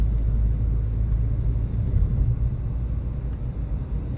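Car driving along a rural road into a village, a steady low engine and road rumble continuing at an even level throughout.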